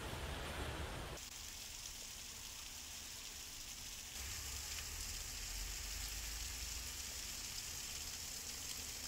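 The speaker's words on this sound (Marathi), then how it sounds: "नाशिकमध्ये मुसळधार पाऊस सुरू आहे" Heavy monsoon rain pours down in Nashik as the Godavari floods, a dense, even wash of hissing noise that holds steady throughout, faint and distant, with abrupt shifts in its texture and no voices.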